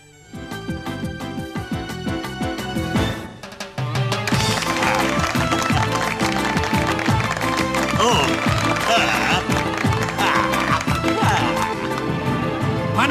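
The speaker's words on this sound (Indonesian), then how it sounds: "Ayo, tepuk tangan semuanya" A nightclub crowd applauds a singer over loud music, dense clapping rising sharply after a short dip and continuing steadily under the rhythmic backing track.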